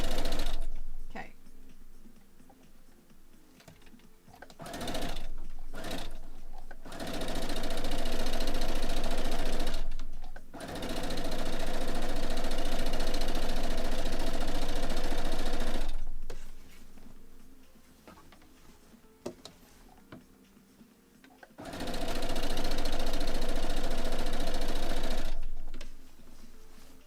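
Sewing machine stitching fabric for a dog bed, a loud continuous motor whir in several long runs that start and stop, with quieter gaps and some talk between them.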